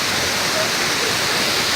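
Waterfall at Cachoeira do Robertão in Amparo, Barra Mansa, Rio de Janeiro, roaring as a steady, dense broadband wash of falling water, loud and close, with no breaks.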